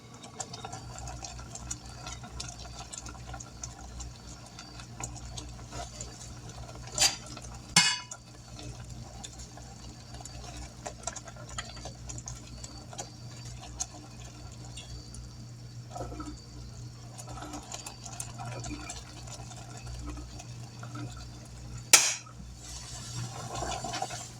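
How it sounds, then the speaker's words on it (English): Hot homemade blackberry jam whisked off the heat in a pot, a continuous soft scraping and liquid stirring with a few sharper clanks of the whisk against the pan, quiet and close. "I will remove this from the heat and I will continue to whisk."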